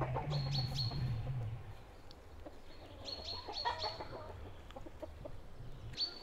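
Chickens cluck and chirp around a chicken wagon outdoors in northern Sweden in spring, scattered calls from several birds at close to moderate distance.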